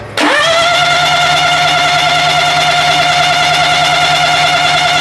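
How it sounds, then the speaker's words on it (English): The engine of a Daihatsu Hijet S210P turns over for a compression test, a loud, steady, droning whir after a brief start that holds evenly without catching. "So go ahead and wind it over and we'll see what our compression's at."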